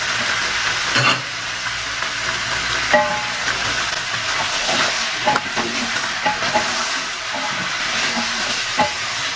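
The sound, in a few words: frying and stirring chicken for Saudi kabsa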